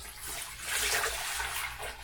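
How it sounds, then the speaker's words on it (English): Water is poured into a household sink and runs down the drain, a rushing flow that swells in the middle and continues steadily, close by with no talking. "we're going to pour the water in the sink"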